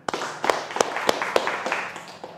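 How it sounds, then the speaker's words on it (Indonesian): A few sharp claps ring out at irregular intervals over a dense, noisy background during a live religious talk in Makassar, like scattered clapping in a crowd. "Tepuk tangan."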